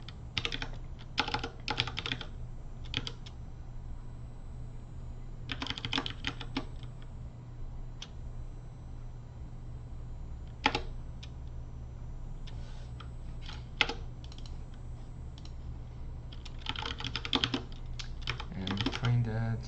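Computer keyboard typing in bursts of rapid clicks separated by pauses, close and moderately loud over a steady low hum, while a SQL query is written for a Django project.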